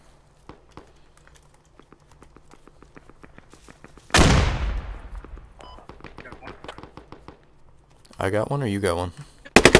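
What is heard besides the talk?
heavy gunfire in a video game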